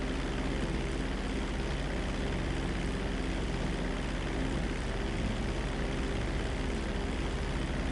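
Steady, droning aircraft engine during a flight in GTA Online, a continuous broadband roar at an even level with no breaks, heard alone.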